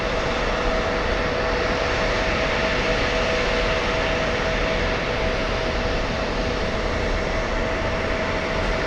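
Steady, loud whine and rumble of a CRJ 900 regional jet's engines at JFK Airport, a constant close drone with a faint tonal hum running throughout.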